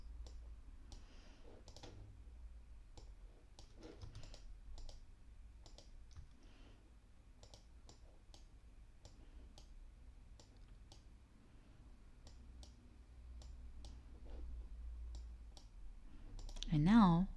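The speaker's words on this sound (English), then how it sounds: "Let's move it first with the mouse." A computer mouse clicks in sparse, sharp, quiet taps while a selected point is dragged with the Direct Selection Tool in Adobe Illustrator, with faint background hum throughout.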